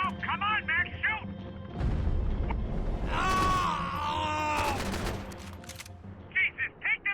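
Heavy gunfire and booming shots from Max Payne 3 dominate the middle stretch, with voices and groans layered in, while shorter vocal outbursts come before and after.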